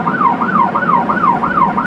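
A fishing-start siren wails at dawn over Jeodo, the northernmost fishing ground, rising and falling in quick, regular cycles, loud and close.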